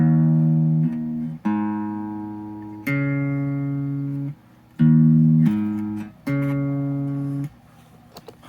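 Electric guitar chords from a Jet JS300 with Mojotone '58 Quiet Coils in HSS layout, played through the bridge humbucker combined with the neck pickup: four clean, ringing strummed chords, each left to sustain and decay, alone with no talk.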